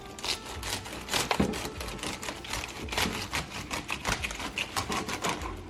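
Collard greens being sliced with a ridged knife: a close, quick run of crisp crunching and tearing cuts in an uneven rhythm, with no talking.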